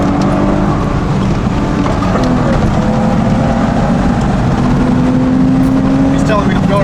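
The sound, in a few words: car engine racing on the Nürburgring in a video game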